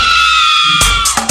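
A single long, loud, sustained scream holds a steady pitch for about a second, then breaks into a few harsh, noisy bursts at the end.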